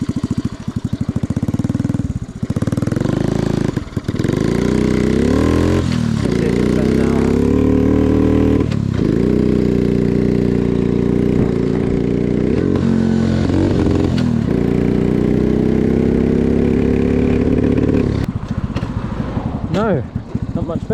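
A motorcycle engine with a poorly tuned carburetor runs close by, idling and revving unevenly with pitch rising and dropping as it is adjusted, loud and continuous throughout.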